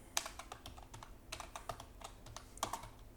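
Soft, scattered keystrokes on a computer keyboard while code is typed, close and quiet, with uneven clusters of clicks and short gaps and no talking.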